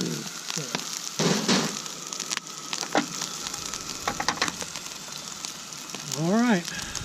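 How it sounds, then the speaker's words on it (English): Bacon and sausage crackle and sizzle in a camp cooking pan, a steady close hiss of frying fat with scattered pops, and a voice briefly chimes in near the end. "my bacon and sausage and stuff cooked to the little bit crispy"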